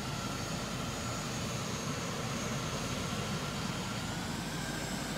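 The engine of a Manta aircraft in Carrier Command 2 produces a continuous, even jet-like roar with a faint, slowly rising whine on top, steady and moderately quiet throughout.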